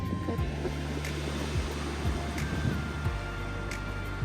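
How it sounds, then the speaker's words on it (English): Strong gusty wind of around 55 mph blows across an outdoor garden, a rough buffeting rush with low thumps against the microphone, steady and moderately loud. "It is super windy."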